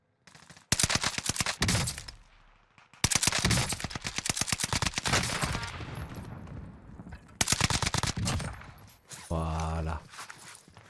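Rapid bursts of video game gunfire from an NZ-41 burst-fire weapon crack loudly in quick rhythmic volleys, pausing briefly between strings of shots, with a heavier thumping burst at the end.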